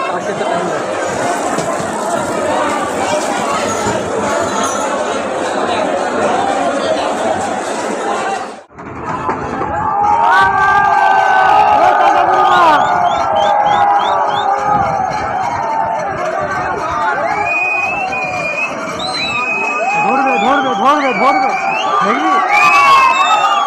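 Large, dense crowd of devotees on a station platform at Tarakeswar, a steady loud roar of chatter and shouting that pauses briefly before resuming with voices and a rising siren-like tone.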